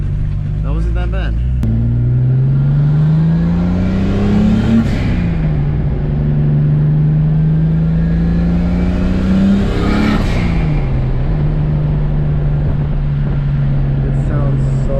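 A turbocharged M52-powered BMW E30 with a new turbo-back exhaust revs up twice, each rise climbing to a raspy peak before dropping back to a steady idle rumble, close and loud, with a voice briefly over the start.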